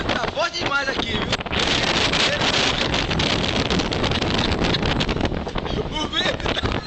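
Strong outdoor wind buffets the microphone in a continuous loud roar with gusty rumbling throughout, while people talk faintly at the start.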